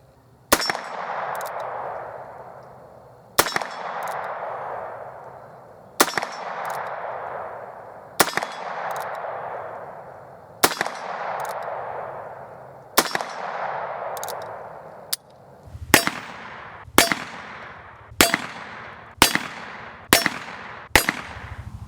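Heritage Rough Rider .22 LR revolver firing about thirteen shots at a target, each a sharp crack with a ringing decay, spaced evenly at first and then fired faster, heard close with no talk.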